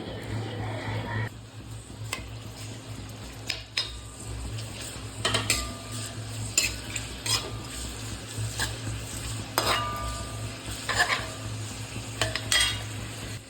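Thinly sliced onions fry in oil left from frying chicken for Christmas chicken biryani masala, a steady sizzle punctuated by sharp spatula scrapes and clinks against the pan, close and fairly loud.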